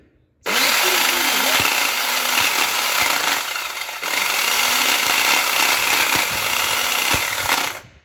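A Soviet-made electric chainsaw cuts wood in a loud, steady motor whine with a chain buzz running for about seven seconds, dipping briefly in the middle before carrying on.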